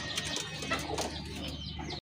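A Lalgorra pigeon coos steadily and close, soft repeated calls over a low background murmur for about two seconds.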